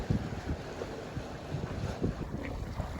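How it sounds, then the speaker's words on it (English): Steady wind rush and water noise aboard a sailboat heading out into the bay in about 10 knots of breeze, a continuous close buffeting hiss with low rumble and no voices. "we've not just got a breeze, we've got 10 knots"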